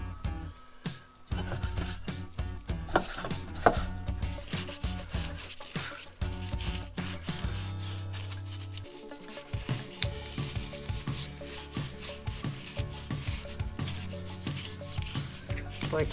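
Grime is scrubbed off the body of a Predator 4000-watt generator carburetor, making close, uneven rubbing and scraping strokes in quick bursts. No one speaks.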